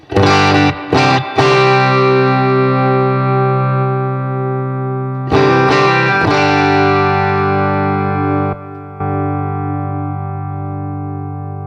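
Loud distorted electric guitar chords ring out and sustain through a small amp with gain turned all the way up, struck in a few bursts and left to ring, with no voices.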